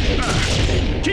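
Dense, continuous gunfire from a firefight in TimeSplitters Future Perfect, a loud sustained barrage of shots with booming impacts and shouting voices mixed in throughout.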